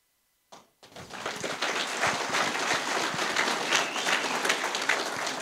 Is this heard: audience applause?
yes